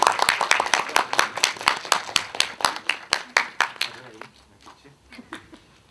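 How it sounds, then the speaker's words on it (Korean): A film-screening audience claps to welcome the director and a commentator, distinct loud hand claps in a quick steady rhythm that thin out and fade after about four seconds. "박수로 맞아주시죠."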